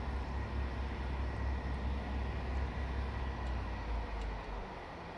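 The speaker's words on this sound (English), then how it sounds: "That's a cement train, so that'll be going to Hope Sidings, West Firk to Tunstead." A cement freight train in Train Simulator Classic on the Hope Valley line rolls past with a steady, loud low rumble that holds for the whole stretch.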